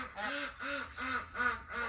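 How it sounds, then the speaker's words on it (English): Several ducks quack in a steady run of five evenly spaced calls, close and clear, over a faint low background hum on a farm. "Ducks."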